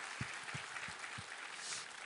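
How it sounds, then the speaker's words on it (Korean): A church congregation applauds during a worship service, a soft, distant wash of clapping with a few dull low thumps scattered through it. "우리 하나님께 감사와 영광의 박수 올려드리겠습니다."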